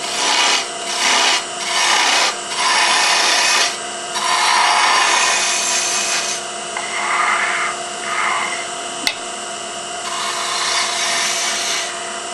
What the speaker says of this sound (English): just make a series of light passes until you get it round